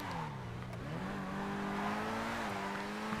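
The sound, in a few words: Pegassi Reaper car exhaust note from GTA 5 video game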